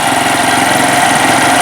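A Honda C-series motorcycle engine idles after running for a while, a steady close-up putter with a fast, even rhythm and no speech.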